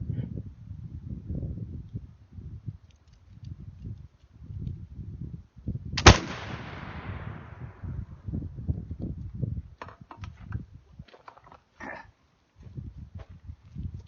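A swivel breech rifle from a kit fires once at a target on an outdoor shooting range, a single loud, sharp report with a ringing decay, set amid steady wind noise and faint outdoor rustling.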